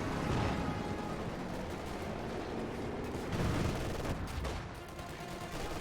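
MG42 machine gun fire in the Company of Heroes 2 video game, a dense continuous rattle of automatic bursts mixed with other battlefield gunfire and blasts, steady and fairly loud without pause.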